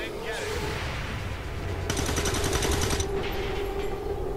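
Rapid video game gunfire aimed at a fence, a dense burst of fast repeated shots lasting about a second amid constant game background noise.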